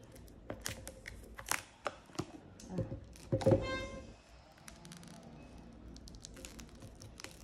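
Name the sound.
opening a tarot card box by hand without scissors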